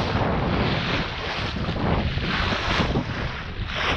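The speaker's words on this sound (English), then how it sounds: "Just cutting through the water. This is a good bilge keeler." A bilge keel sailboat cuts through the water as the wind increases, giving a continuous rush of water and wind buffeting the microphone, close and fairly loud.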